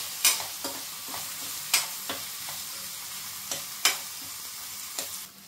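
Spices being stirred into a frying pan, with a few spaced scraping strokes over a faint sizzle, close and fairly quiet, no talking.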